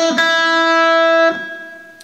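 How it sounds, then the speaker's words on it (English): Electric guitar playing a fast slide in a beginner rock lick, a sustained bright note with a quick pitch slide at the start and another near the end, then ringing out and fading, close and clear with no voices. "If you do a fast slide, it will give it a different sound character"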